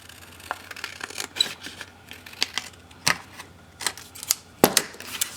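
Paper printable mat templates are cut, producing scattered sharp snips and crisp clicks at an irregular pace, close and fairly quiet against a still room.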